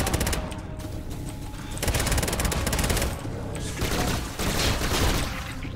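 An automatic weapon fires in the video game Bombshell, long sustained bursts of rapid shots with short pauses between, loud and dense throughout.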